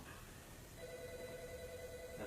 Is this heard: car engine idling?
no